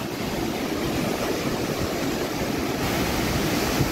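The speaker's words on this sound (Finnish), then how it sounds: "lorisevaa kosken kuohuntaa, vai mikä, onks tää koske?" Loud, steady broadband rush of turbulent river rapids, continuous and close throughout with no voices over it.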